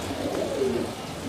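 Pigeons of a Rampuri and Saharanpuri cross breed cooing softly and steadily, the low murmuring calls continuous and close throughout.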